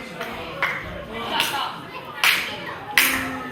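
A professional wrestler claps slowly and mockingly during a singles match, a handful of separate, spaced claps ringing out sharply over a low background murmur of commentary.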